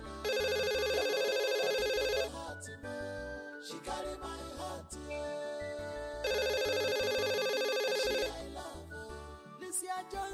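A mobile phone rings loudly and close, a bright repeating melodic ringtone in two long bursts separated by a pause, with no voices over it.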